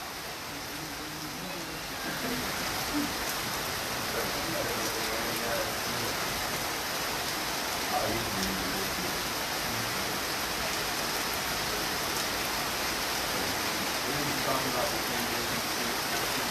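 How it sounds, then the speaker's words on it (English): Steady rain falls outdoors at an agriculture research center in Ganta, Liberia, a dense even hiss that thickens after the first couple of seconds and continues without pause. "So we'll just let you watch the rain as we wait for things to get serious."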